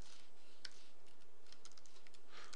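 Keystrokes on a computer keyboard while JavaScript code is written in Notepad, sparse light clicks in short bursts, faint and close, with no talking.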